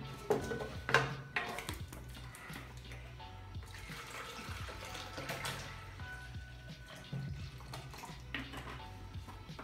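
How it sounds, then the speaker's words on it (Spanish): Carnivor protein powder being mixed with water, with clattering, pouring and splashing sounds of liquid and handling of a container, steady and moderately close, with no speech. "La voy a preparar con agua."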